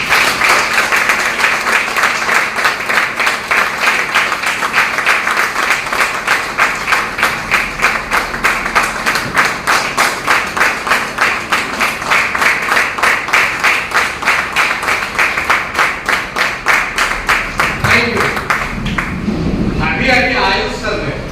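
Audience applause at a business plan seminar in a venue as a guest is welcomed onto the stage, sustained dense clapping from a large crowd for about twenty seconds, loud and close, tapering near the end.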